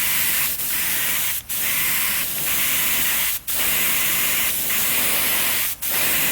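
Short hissing bursts from a spray-paint can coat a primed lug nut, three sharp sprays separated by steady background hiss.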